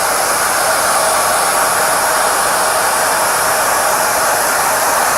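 A hair dryer blows steadily and loudly as heat softens a decal on a 1:12 Tamiya Repsol Honda RC211V '03 Valencia model fairing, a continuous broadband whoosh with no talking.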